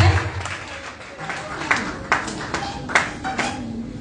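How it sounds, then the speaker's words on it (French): An audience at a school graduation in Douala applauds a group of children, with scattered, fairly sparse claps and taps at mid distance, while people talk underneath. "Applaudissez pour eux, s'il vous plaît."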